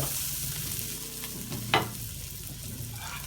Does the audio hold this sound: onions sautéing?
yes